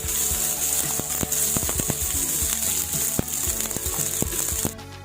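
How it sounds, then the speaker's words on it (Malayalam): Garlic, ginger and shallots stir-frying in oil for a spicy Kerala-style sardine curry: a loud, continuous sizzle with frequent clinks and scrapes of a utensil against the pan, ending abruptly. "വെളുത്തുള്ളി, ഇഞ്ചി, ചുവന്നുള്ളി അത് ഇതിലേക്ക് നമ്മൾ ഇട്ട് കൊടുക്കണം. അത് നമ്മൾ നല്ല രീതിയിലൊന്ന് ഇളക്കി കൊടുക്കണം, മൂക്കാൻ വേണ്ടി."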